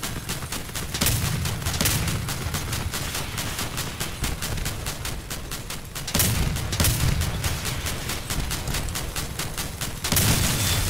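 Twin Elephant cannons firing in the vehicle combat game Crossout: heavy booms land every few seconds over a dense, rapid crackle of surrounding gunfire, loud and continuous with no talking.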